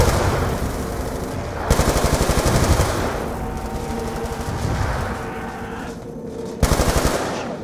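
Galil assault rifle fire in Black Ops 2 Zombies, loud sustained automatic bursts with rapid rattling shots, a few sharper bursts standing out over constant in-game noise and effects.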